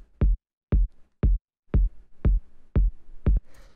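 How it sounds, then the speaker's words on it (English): Punchy 808 kick drum for dub techno, struck eight times at a steady tempo, each hit a dry, deep thump with a short decay, heard close and alone with faint noise at the end. "It's just like a punchy 808 kick."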